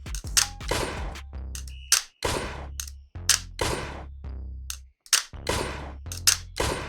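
A Wonderfitter M9 Smart VR pistol controller fires about nine loud, sharp shots at an uneven pace. Each crack rings out briefly, and no voices are heard.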